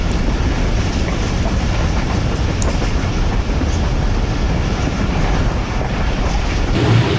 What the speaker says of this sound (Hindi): इस वक्त हम मांग के आला के छोटे से रेलवे स्टेशन से गुजर रहे हैं।